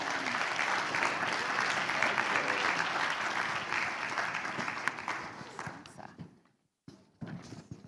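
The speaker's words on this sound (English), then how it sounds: "Let's give them a round of applause." Audience applause at the Fanhita 2023 conference for a panel being introduced, a steady loud crowd of clapping that thins out near the end, with a brief silent gap and some murmuring at the close.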